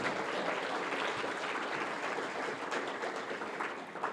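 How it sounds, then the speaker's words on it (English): Steady applause fills a hall as a large DjangoCon US 2019 conference audience claps for itself, a dense, even roar of many hands sustained for several seconds and fading slightly toward the end. "Give yourselves a round of applause."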